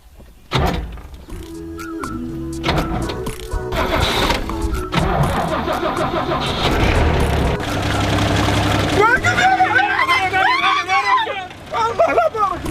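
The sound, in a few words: car engine being started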